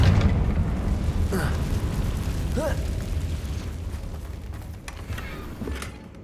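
A Confringo explosive spell in the Hogwarts Legacy video game erupts with a heavy rumbling boom at the start, then decays into a quieter low roar with a few scattered pops and creaks.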